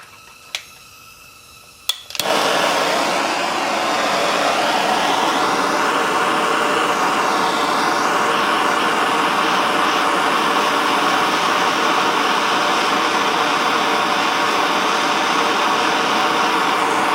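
A restored Briggs & Stratton NR6 small gasoline engine starts with a couple of sharp pulls. It then catches and runs loud and steady at close range, a continuous buzzing roar that holds to the end.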